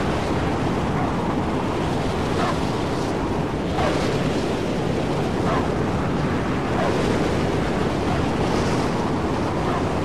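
Sandstorm wind roars in the Mad Max video game: a loud, unbroken wall of gusting, hissing wind throughout, with no voices.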